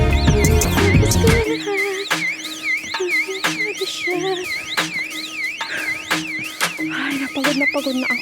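An electronic warning alarm for people and pigs sounds up a hillside in a rural area, a repeating warbling siren-like pattern with rhythmic pulses, moderately loud and steady.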